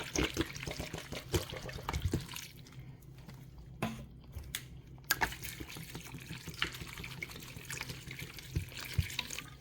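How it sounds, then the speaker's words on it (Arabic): Water poured into a mixture for homemade sobia, with wet splashing, squishing and sloshing close by and a brief quieter gap midway. "الحين هضيف لتر مويه"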